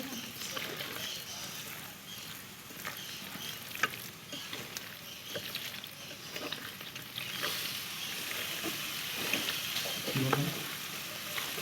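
Spice pastes of ginger, chili and onion are worked together with cooking oil by hand, producing soft, wet squelching and sticky mixing sounds, fairly close and quiet over a steady background hiss.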